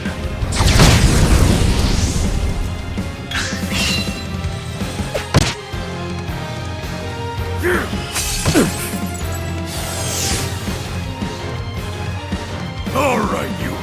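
Fire attack in the video game Octopath Traveler 2: loud booming, crackling bursts and crashing impacts over dense game music, with a sharp hit near the middle and more strikes later.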